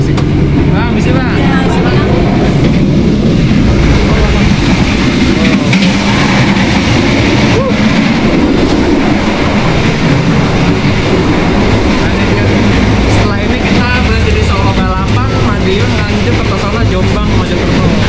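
An executive-class train runs from Jakarta to Yogyakarta, its interior filled with a loud, continuous rumble and rattle under clattering bumps, while people talk throughout.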